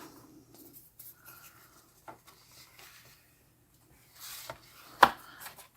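A paper card for a Valentine's Day project is folded and creased on a table, with quiet rubbing and scraping strokes, a few soft taps, and one sharp louder press near the end.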